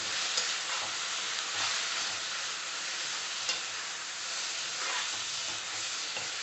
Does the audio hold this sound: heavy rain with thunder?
no